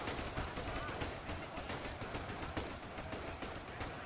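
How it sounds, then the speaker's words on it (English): An MG42 machine gunner fires in a video game, fairly slow, evenly spaced bursts of rapid shots repeating throughout, faint and distant-sounding with a voice talking over it. "Oh, that must be an MG42 gunner."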